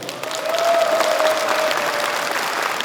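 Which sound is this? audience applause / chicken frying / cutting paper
audience applause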